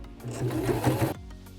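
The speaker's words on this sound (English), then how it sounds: "we're gonna sew forward, back stitch, then sew forward again" A sewing machine stitches the strap of a homemade baby changing pad, running forward in a steady whirring burst for about a second before stopping abruptly, close and alone with no voices.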